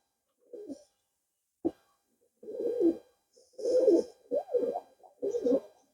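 Pigeons coo in several soft, throaty bursts spaced over a few seconds, fairly close and quiet in otherwise still surroundings.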